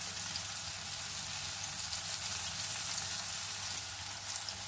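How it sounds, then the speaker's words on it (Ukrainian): Ukrainian cheese pancakes (syrnyky) fry in hot oil with a steady, close crackling sizzle that continues evenly throughout. "І кладу перший сирник, бачу, що олійка кипить, значить все добре"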